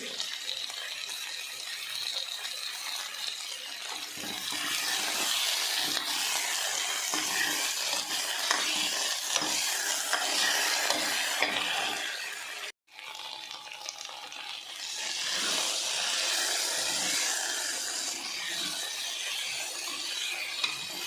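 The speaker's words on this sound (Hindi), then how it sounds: "আলু সব যখন ফ্রাই হয়ে গেছে" Potatoes fry in a pan, a steady loud sizzle running throughout, with stirring and scraping and one short break partway.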